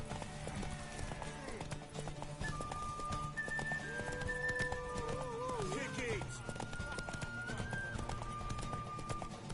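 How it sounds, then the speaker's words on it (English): A horse gallops in The Witcher 3, its steady hoof clip-clop running under in-game music and character dialogue, with a player talking over it and a brief whinny. "यो घोडा कस्तो स्लो दौड्यो यार"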